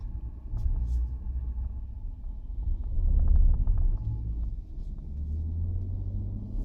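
Low, steady rumble of a 2019 Jeep Cherokee 4x4 V6 drivetrain grinding and groaning under load at full steering lock, swelling louder midway before settling back, with no talking.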